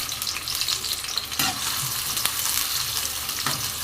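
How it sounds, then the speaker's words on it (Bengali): Chopped onion frying in hot white cooking oil in a pan, a loud, dense, steady sizzle close by with a few brief clatters, no talk. "তেলটা গরম হয়ে এলে দিয়ে দিচ্ছি কিছুটা পেঁয়াজ কুচি"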